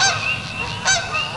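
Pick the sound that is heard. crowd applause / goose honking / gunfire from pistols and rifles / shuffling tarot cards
goose honking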